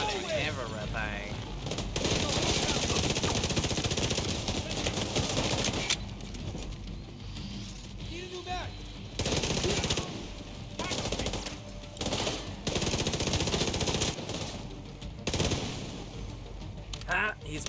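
Gunfire in the video game The Division 2 comes in loud, dense bursts of rapid automatic shots separated by short lulls, continuing throughout.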